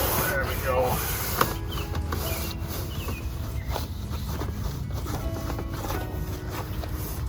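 Steady scrubbing of black streaks off the outside of a camper, a continuous close, rough brushing rasp with faint dripping and scattered knocks, and no voices over it.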